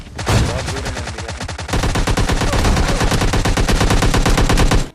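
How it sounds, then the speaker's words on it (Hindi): Rapid bursts of loud AWM sniper rifle fire from a video game, a single crack followed after a short pause by a dense, sustained run of repeated close gunshots. "और फिर चला ली है AWM"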